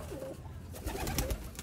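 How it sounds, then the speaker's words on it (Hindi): Sialkoti pigeons coo in short, low burbling bursts, nearby and fairly quiet, with soft rustling around them. "यही तो हमारे मशहूर है सियालकोटी बटेरे कबूतर"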